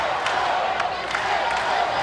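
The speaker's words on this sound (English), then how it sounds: "The crowd trying to urge the home team on." A volleyball crowd cheers the home team at a Hawaii versus Portland women's match, a dense, continuous roar of voices with scattered claps under a commentator's talk.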